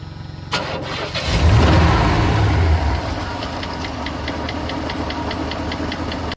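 A car engine cranks and starts after an intake manifold rebuild and fresh tuning, revving briefly before settling into a steady, close idle with a faint rhythmic ticking.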